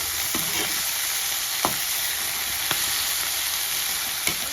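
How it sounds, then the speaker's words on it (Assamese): Greens fry in a pan over a gas flame, giving a steady loud sizzle with a hiss of steam, broken by a few soft clicks and scrapes as they are stirred. "এতিয়া আমি অকণমান লৰাই ল'ম"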